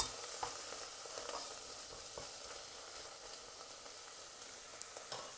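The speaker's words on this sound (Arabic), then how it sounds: "راح نحمص اللحمة مع الزبدة حتى تصير عندنا جاهزة" Meat browning with butter in a pot gives a steady, fairly soft frying hiss with scattered sharp pops and occasional stirring scrapes, close by and without any voices.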